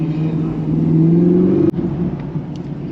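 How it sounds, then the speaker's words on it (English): Turbocharged car engine revving at a gas station, a close, loud rising whine and rumble that builds for over a second, then cuts off sharply with a brief pop, followed by lower idling rumble and faint ticks. "I can hear bro's turbos over my whip"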